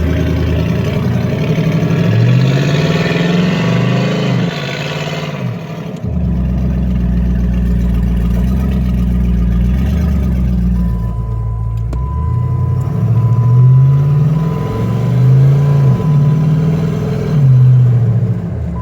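A 2008 Jeep Wrangler with a 5.3L V8 engine driving in loud exhaust mode, giving a deep, close, booming rumble that rises and falls with repeated revs and shifts, with no talking.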